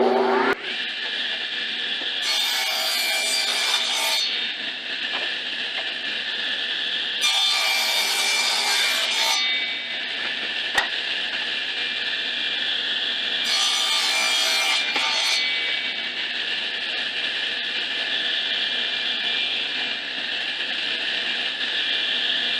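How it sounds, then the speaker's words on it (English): Hand-sawing 3/4 inch pine board to cut out knobs, with three bursts of steady back-and-forth rasping strokes close up, separated by quieter pauses and no talking. "I'll cut them out of this 3/4 inch piece of pine"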